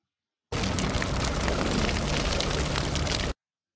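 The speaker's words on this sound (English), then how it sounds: "The house is on fire." Dense, steady roaring crackle of a house burning in an animated cartoon, loud and continuous for about three seconds with rain-like hiss and no voices.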